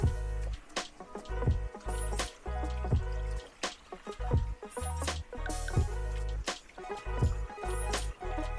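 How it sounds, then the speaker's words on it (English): Water pours and splashes into a metal pot holding onions and pig feet, with uneven gurgles and drips over a low background hum. "Now I'm gonna add water."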